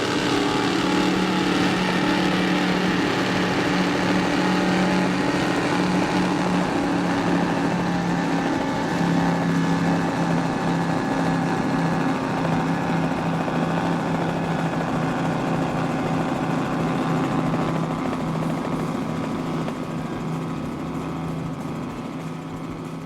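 A 32 Skater racing powerboat runs flat out with a sustained, dense, high-revving engine roar that holds steady and fades slightly toward the end, loud and continuous with no voices.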